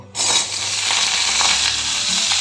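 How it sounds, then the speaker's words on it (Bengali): Ridge gourd fries in sunflower oil over high heat, giving a loud, steady, close sizzle that starts abruptly and holds without a break. "শুধু ঝিঙাটা একটু ভেজে নেয়া তাই এটা হাই হিটেই ভাজতে হবে"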